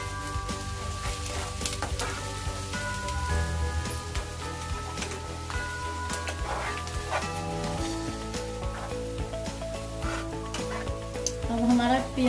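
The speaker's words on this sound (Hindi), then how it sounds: "अब इसमें हम अपना चॉप किया हुआ अनियन ऐड कर रही हैं। इसको गोल्डन ब्राउन होने तक हमको फ्राई करना है।" Chopped onion sizzles in hot oil in a pan, frying toward golden brown. A steady close crackle runs throughout, with occasional stirring scrapes and background music.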